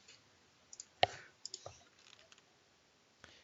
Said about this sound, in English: I'm pressing Control in here in my CAD window to open up a new drawing